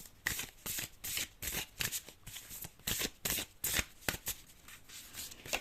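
Tarot cards are shuffled and riffled by hand in steady, brisk bursts of papery flutter, close and fairly soft, with no talking.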